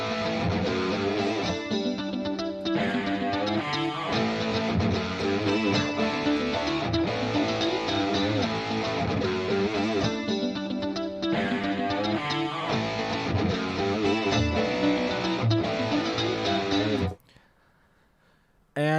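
Several funk guitar parts layered together in a full mix, a dense, busy wash of rhythmic strummed and picked lines playing continuously and loud before cutting out near the end, with no voices.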